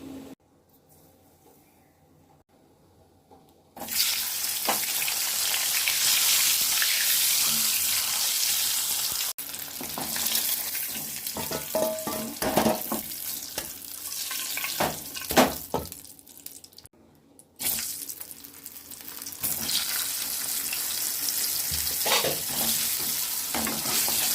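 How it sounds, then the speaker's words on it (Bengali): Eggs fry in oil in a home kitchen pan, making a loud, continuous hissing sizzle that starts after a quiet opening and briefly drops out partway through. "ভাজা সময় যাতে তেলগুলো না ছিটে আসে"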